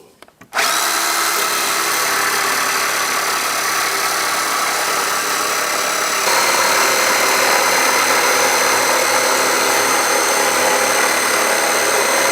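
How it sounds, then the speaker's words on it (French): A jigsaw with a fine-toothed blade cuts a laminate floorboard at close range with a steady high-pitched whine, its tone shifting slightly partway through the cut. "la découpe se réalise nécessairement à la scie sauteuse avec une lame à denture fine"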